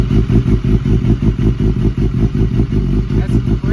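A BMW S1000RR sportbike engine fires up and runs for warm-up before an oil change, a loud, close, choppy idle with rapid rhythmic pulses and mechanical clatter throughout.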